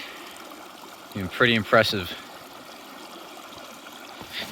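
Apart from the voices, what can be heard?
strong flow of water in a stream after a winter storm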